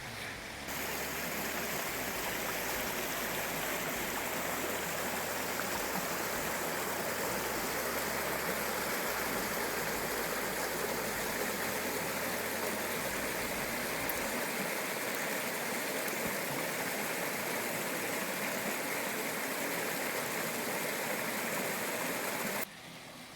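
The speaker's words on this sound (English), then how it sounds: "All right, there's the brook over here." A brook on a hiking trail rushes steadily and loudly throughout, a dense, unbroken wash of flowing water close by, with a low rumble in the first half and no voices.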